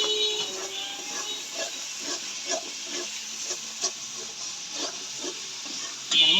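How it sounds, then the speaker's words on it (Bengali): Thick masala paste frying in oil in a pan, giving a steady soft sizzle with small bubbling pops and occasional stirring scrapes, close and moderately loud, with no talking. "মশলা তেল ধরিয়ে গেছে, মশলা ভালো করে কষানো হয়ে গেছে।"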